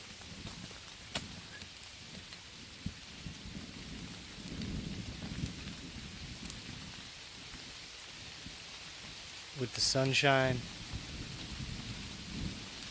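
Heavy rain falls through a forest canopy as a thunderstorm rolls in, making a steady wash with a few short rumbles. A brief louder burst comes near the end, and a voice speaks briefly.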